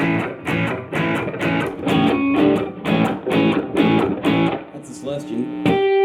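An electric guitar plays through a WGS Green Beret 10-inch speaker, with rhythmic strummed chords in a steady chugging pattern, then a sustained ringing chord with a bright single note at the end.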